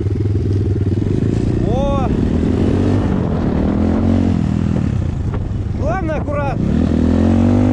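A BSE Z3 enduro motorcycle riding along a dirt country road between fields, its engine droning steadily close by with brief rising revs, while a rider talks over it.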